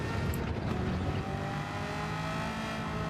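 A race car in Gran Turismo 7 on an American Clubman Cup 700 race, heard as one loud, continuous engine drone that shifts pitch as the car brakes hard, drops to third gear and turns into a corner.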